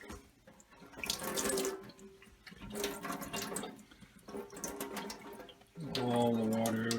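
Water runs and splashes in bursts from a mason jar of sprouts as it is tipped and drained, close and fairly soft, with a steadier faucet-like pour at the end.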